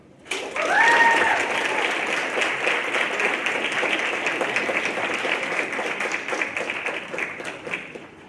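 An audience claps steadily after a speech at a social justice soapbox event, the applause swelling quickly near the start, with a brief cheer-like whistle early, then gradually thinning toward the end.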